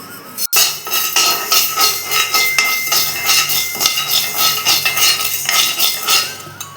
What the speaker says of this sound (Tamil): இதை நான் வறுக்கிறேன் பாருங்கள் வறுத்து காமிக்கிறேன் பாருங்கள்